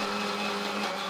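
An old kitchen mixer grinder, around fifteen years in use, runs at full speed with a loud, steady, unbroken motor whir and no voices over it.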